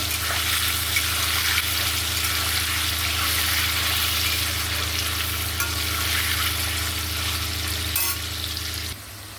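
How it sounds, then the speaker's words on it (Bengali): Paneer cubes fry lightly in a pan, giving a steady, close sizzle that runs unbroken throughout before easing off at the very end. "আমি হালকা করেই ভাজবো। পনিরটা হালকা করে ভেজে নেব।"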